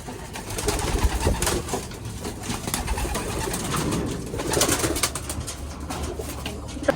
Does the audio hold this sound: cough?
no